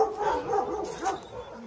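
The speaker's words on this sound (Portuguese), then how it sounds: "Os cachorrinhos ali." Dogs barking on a rural farm property with a shed and tanks, fairly distant and moderate in level, a few yips and barks over a steady outdoor background.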